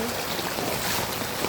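Heavy rain pours in Keonjhar as water floods into a house. A continuous, broad, hissing wash of water stays fairly loud and unbroken, with no clear voices.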